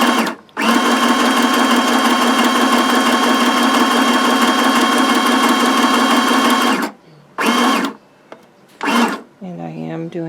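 A sewing machine running a long straight stitch across baby book pages, a loud steady motor whir for several seconds, then stopping and restarting in short bursts during back stitching, with a voice heard briefly at the end.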